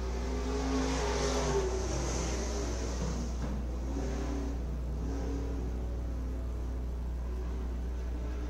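Race cars run an IMCA heat race at Beatrice Speedway, producing a steady distant engine drone over a constant low hum, with a faint rise and fall as the cars pass.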